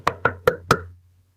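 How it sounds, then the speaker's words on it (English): Four sharp knocks rap on a bedroom window at night during a snowstorm, evenly spaced and close, then fading to silence. "the knock at the bedroom window"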